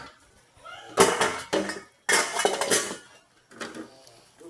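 A pot lid lifted off a simmering pot of sinigang na bangus, milkfish in sour broth, giving a few close metallic clanks and rattles in short bursts.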